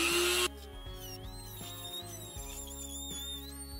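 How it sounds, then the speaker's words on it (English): A Dremel rotary tool fitted with a thick cutting bit notches a part for an HO scale switching layout structure, opening with a loud burst, then settling into a steady high whine with shifting pitch. "So we'll go ahead and try to cut off this using this really thick cutting bit."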